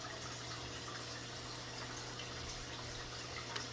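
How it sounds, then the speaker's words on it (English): Water rushes and trickles steadily during an aquarium water change, a faint continuous wash of pouring or pumped water over a low steady hum, with no talk. "We're gonna do a water change in this tank"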